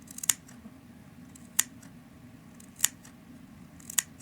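Four crisp scissor snips at roughly even intervals, each a sharp isolated click while cutting material for a horned bonnet, close and fairly quiet over a low steady background hum.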